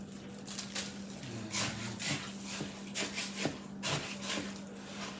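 Sleeve of crackers crushed by hand for meatloaf, giving dry crinkly crunching and rustling in irregular bursts, close and moderately loud, with a faint steady hum beneath.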